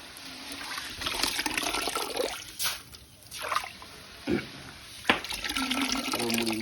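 Scooped water from soaked paddy is poured out in splashing, trickling bursts between quieter pauses, close by, with sharp sloshes and dribbles and no clear speech.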